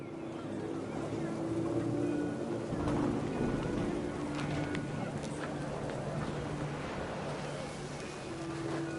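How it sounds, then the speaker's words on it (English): Heavy rain pours steadily in the game What Remains of Edith Finch, a dense, even wash of downpour with faint low rumbles underneath, continuous and moderately quiet throughout. "The rain came down in buckets then"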